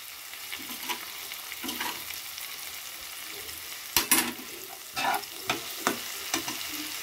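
Tomatoes fry in a pan for Bengali dal with prawns, a soft steady sizzle broken by several sharp scraping stirs of a spoon near the end, close and without talk.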